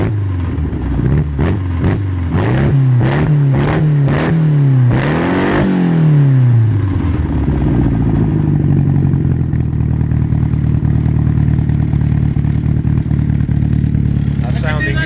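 A car engine fitted with rebuilt Dellorto DHLA 45 Tri-Jet carburettors revs hard several times in quick rhythmic blips, then settles to a loud, steady idle nearby, with voices talking over it.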